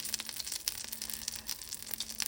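Syrniki and pancake batter fry together in a hot pan, giving a steady close crackling sizzle with scattered sharp pops over a low hum.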